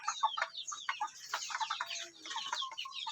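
Three-month-old young roosters (stags) cluck and chatter nearby in a busy overlapping flock, with short rapid calls in quick succession and no speech.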